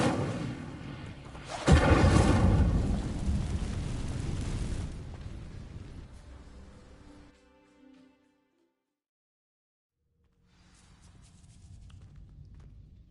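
A fire spell, Incendio, cast in Hogwarts Legacy: a sudden loud whooshing burst of flame that roars for a few seconds, then fades into near silence before faint ambient sound returns.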